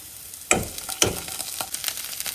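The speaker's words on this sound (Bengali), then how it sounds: "তেলে যাচ্ছে অল্প একটু আদা রসুনের পেস্ট।" Ginger garlic paste hitting hot frying oil, two sharp sizzling bursts followed by a softer continuous crackle and light stirring, close and alone without talk.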